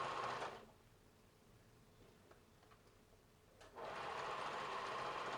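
Sewing machine stitching a jogger waistband, a steady mechanical whir that starts loud, stops for about three seconds of near silence, then resumes at the same close level.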